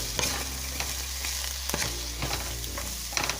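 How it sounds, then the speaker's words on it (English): Herb potatoes seasoned with salt and pepper sizzle in a skillet while a utensil stirs them, giving several scraping knocks over a continuous crackling fry close by, with no talking. "give it a nice little stir."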